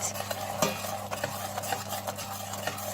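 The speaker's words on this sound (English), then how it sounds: "Just slowly add the cream, mix, mix, mix, mix." A spoon stirring hot caramel with cream in a pot off the heat, soft continuous scraping and swirling with occasional clinks against the pot, close and fairly quiet with no voices.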